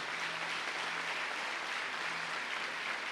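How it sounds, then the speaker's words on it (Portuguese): A church congregation at a men's conference applauds in praise, with steady, even clapping from a crowd that is heard at a moderate distance and stays constant throughout. "Pode aplaudir o Senhor."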